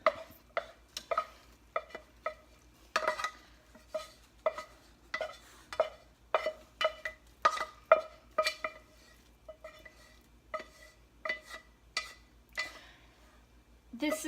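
Rehydrated lemon herb mixture is stirred into pasta, with a utensil knocking and scraping the pot in a steady run of clinks and scrapes throughout, close and fairly clear, with no talking.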